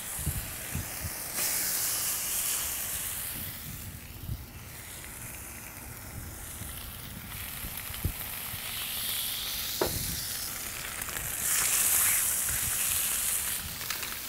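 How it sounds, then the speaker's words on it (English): Blackened redfish fillets sear on a searing-hot steel griddle, giving a steady hiss and sizzle that runs throughout, fairly quiet, with a couple of sharp clicks and knocks along the way. "the hot steel and actual fish. I mean, it's really searing hot."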